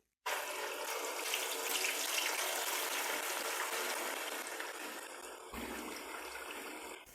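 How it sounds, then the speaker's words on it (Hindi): Marinated chicken pieces fry in a karahi pan, giving a loud, steady sizzle from start to end that dips briefly and then resumes. "अब हम चिकन को फ्राई करेंगे तकरीबन 5 मिनट।"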